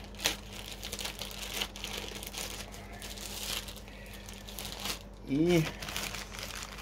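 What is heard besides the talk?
tearing open plastic packaging bag of motorcycle battery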